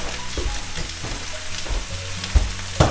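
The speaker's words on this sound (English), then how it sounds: "Zucchini and squash is going to go pretty fast, so we're just going to stir that all together" Sliced zucchini, squash, onions and garlic scapes sizzling loudly in a hot pan, with steady frying crackle and a few clunks and scrapes of a utensil stirring them together.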